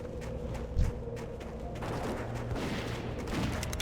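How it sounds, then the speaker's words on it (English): A hunter's concussive shot is fired in World of Warcraft Classic, with one sharp impact near the start amid a busy bed of combat noise, rapid clattering shots and mechanical rattles. The sound is dense and fairly loud, with no talking. "Let's give that guy a concussive shot."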